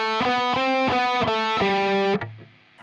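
Distorted electric guitar plays the run-up from a solo, a quick string of about five picked notes and then a held note that cuts off abruptly, close and loud.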